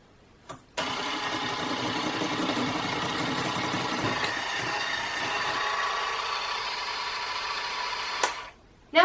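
An electric mixer whirs steadily for about eight seconds while beating a cookie mixture until light and fluffy, starting and stopping abruptly, loud and close with no talk.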